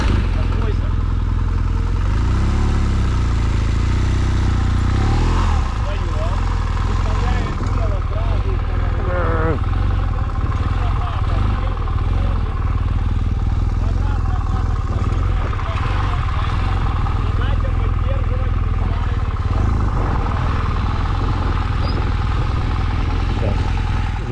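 A motorcycle runs at a moto training ranch, its engine droning steadily and fairly close with shifting revs, while people talk over it.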